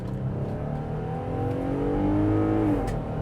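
A dual-cab ute engine pulls hard in four-wheel-drive high while towing a load, its steady drone rising in pitch as it accelerates, heard from inside the cab with no talking.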